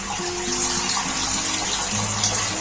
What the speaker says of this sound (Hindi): इस पानी में मैं इसमें पानी शामिल करूंगी ताकि हमारी दालें अच्छे से गल जाए